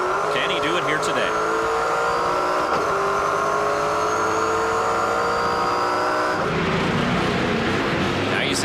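NASCAR Pinty's Series stock cars race in the Can-Am Le 50 Tours, with loud, sustained engine drone and shifting revs from several cars close by. Tire noise and race commentary run underneath.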